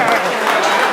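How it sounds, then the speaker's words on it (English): Audience applause fills a room at a rugby league club's sponsors night auction: a dense, steady patter of clapping hands, close and fairly loud, with some crowd voices mixed in. "Round of applause."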